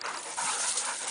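A small beagle pants quickly and close by in a short burst of rapid breathy huffs outdoors at the dunes.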